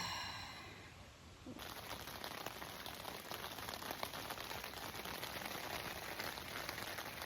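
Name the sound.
rain falling while camping on Bruce Trail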